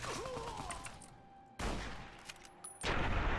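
Gunfire in Fallout: New Vegas crackles in short bursts, with sharp loud shots breaking in twice amid the game's noisy background.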